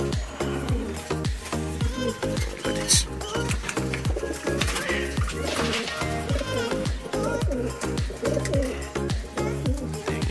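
Pigeons coo steadily inside a loft training box, a dense layered murmur of soft throaty calls with wing flutters, heard close and continuous.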